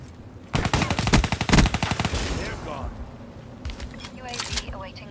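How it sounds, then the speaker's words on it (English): Gunfire from Call of Duty Black Ops 3: a dense burst of rapid, loud shots in the first two seconds, then scattered quieter shots and game effects, with voices talking at times. "Oh, it's a shotgun."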